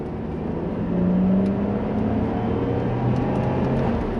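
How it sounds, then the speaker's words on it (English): A 2010 Saab 9-5 Aero Turbo6 XWD accelerating in second gear, its engine drone rising and holding steady from inside the cabin, loud and continuous with road hum beneath. "let's see if we can do some acceleration here in 2nd gear"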